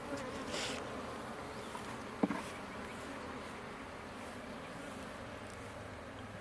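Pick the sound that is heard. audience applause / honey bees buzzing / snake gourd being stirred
honey bees buzzing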